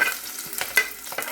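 Ginger and garlic drop into hot oil with popped mustard seeds for a fish curry, giving a soft close sizzle broken by brief stirring scrapes and a few crackling pops.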